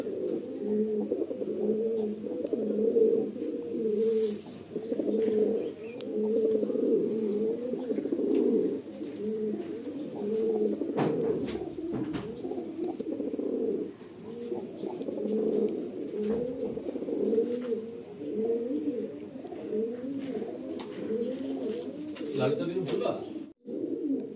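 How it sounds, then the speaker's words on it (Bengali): Steady low cooing from several Kaldama pigeons, overlapping in a continuous rhythmic murmur close by, with some faint background voices and rustling. "এই কালদমা পায়রা খুব ফেমাস পায়রা ওখানকার"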